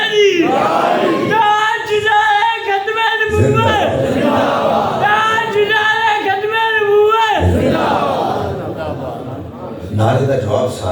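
At a mosque gathering, a crowd answers a religious slogan with loud, prolonged chanted shouts in unison, rising in several waves between a lead voice's calls, close and forceful.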